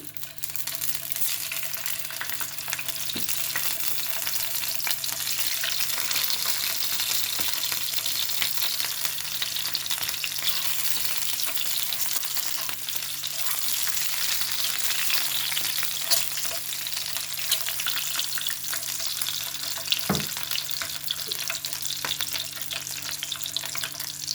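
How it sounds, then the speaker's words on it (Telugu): Eggs frying in two spoons of hot oil in a pan on a stove, a steady, dense crackling sizzle throughout with occasional stirring clicks, close and continuous with no talking. "ముందుగా మనం ఎగ్స్ వేగించుకుందాం."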